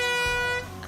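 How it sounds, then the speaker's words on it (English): A single sustained air horn blast, loud and brassy with a steady tone that drops slightly in level near the end, heard alone without talk. "you don't want to use your air horn at the golf tournament."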